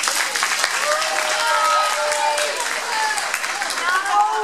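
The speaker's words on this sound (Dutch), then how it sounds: "natuurlijk ook even applaus voor de meeste juffen" Applause from a crowd at a school farewell, steady dense clapping throughout with some voices and cheering mixed in.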